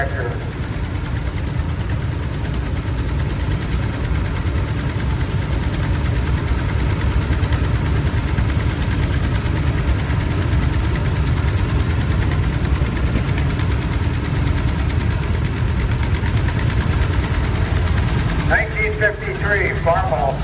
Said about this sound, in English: 122 Cub Cadet Yard Tractor.